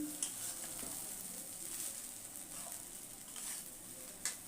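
Ginger, garlic and tomato masala sizzles steadily in a pan, a constant close hiss with a few brief sharper crackles as water goes in; no one speaks.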